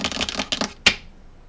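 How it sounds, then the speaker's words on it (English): Coffee-stained paper pages are crinkled by hand in a few quick, close rustling bursts, the last one sharp and bright before the sound dies into quiet. "I'm going to kind of crinkle them up a little bit because I want the stiffness"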